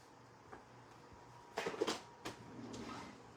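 A drawer is opened and rummaged through for an electric eraser: a few soft knocks, then a cluster of sharp rattling clatters and another bump as items are shifted, fairly close in a quiet room.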